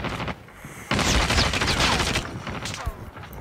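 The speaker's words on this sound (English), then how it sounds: "Somebody is shooting at me." Dense bursts of rapid gunfire in the mobile shooter Call of Duty Mobile, a sustained loud volley with a few single shots before and after, close and harsh.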